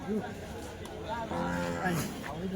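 Bullocks low at a busy rural cattle market in Dhule, Maharashtra: a short moo, then longer drawn-out calls against a crowd murmur, with voices chattering in the background.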